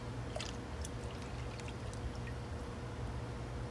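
A cup of soy sauce pours into a cooking pot while making New Orleans yakamein: a quiet, steady liquid stream throughout, with no talking.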